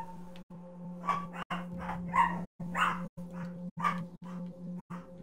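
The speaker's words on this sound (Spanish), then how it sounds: "¡Ah, cállate, perro!" A dog barks repeatedly indoors, about half a dozen sharp, fairly close barks in an uneven rhythm with a few whiny yips, over a steady low electrical hum with brief dropouts between bursts.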